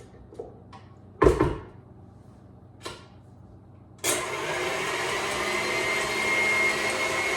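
A few clunks and knocks come first as the bowl and whisk attachment are fitted, then a stand mixer switches on and runs with a steady, loud motor whir that continues to the end.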